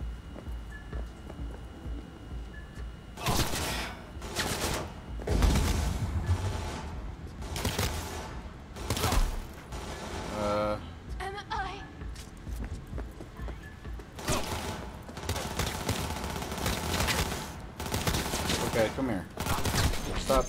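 Gunfire from combat in the video game Cyberpunk 2077, bursts of shots repeating across the scene in loud clusters with a busy game soundscape between them.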